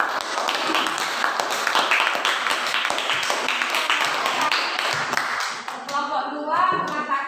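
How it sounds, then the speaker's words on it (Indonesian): Dense classroom applause for a student group, many pairs of hands clapping loudly and continuously for several seconds before tapering off into a voice at the end. "berikan aplaus dulu buat"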